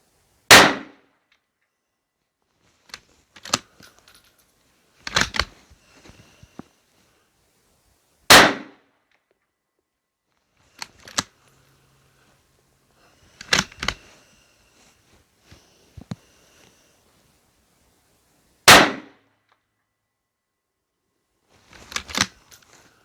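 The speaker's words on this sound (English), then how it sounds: "We're going to go ahead and fire this set number 1, 200 yards, bullseye in the upper left." A rifle fires a set of handloaded rounds at a 200-yard target outdoors. Several loud, sharp cracks ring out alone, spaced seconds apart, with faint clinks and handling noises between them.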